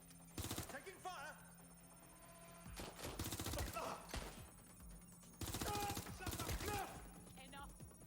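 Gunfire in the video game Watch Dogs Legion comes in several loud bursts of rapid automatic shots separated by quieter stretches, with someone talking between and over the volleys.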